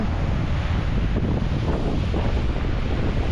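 Loud, constant roar of strong sea waves churning off Mindanao, mixed with heavy wind buffeting the microphone, with no pauses.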